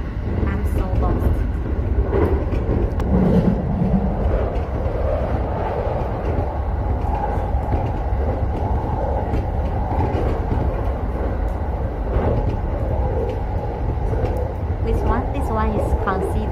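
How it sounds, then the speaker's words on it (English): A quick train rumbles past at steady loudness, a dense low-frequency roll with faint rail clatter running throughout, close and continuous with no voices heard. "This one is considered a quick train."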